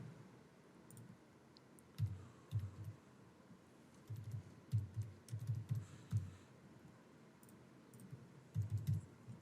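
Card details being typed on a computer keyboard: bursts of quick, soft key clicks in several clusters over a low room hum, fairly close and moderately quiet, with no talking.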